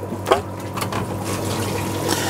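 A homemade siphon, a rigid tube fixed to a hose, draws water and debris out of a flowerhorn aquarium, giving a steady close gurgling trickle with a few brief splashy bursts.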